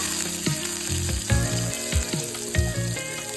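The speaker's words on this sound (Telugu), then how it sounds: "ఆనియన్స్ ఇవన్నీ మంచిగా ఫ్రై చేసుకోవాలండి ఆయిల్లో" Cumin, curry leaves, green chillies and onions fry in hot oil with a loud, steady sizzle, close up, punctuated by several stirring knocks of a spoon against the pan, with no talk.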